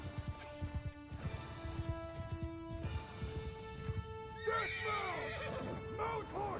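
Horses in the video game Bannerlord whinny repeatedly over a steady clip-clop of galloping hooves, with a pitched neigh rising and falling above the drumming gait and voices shouting in the background.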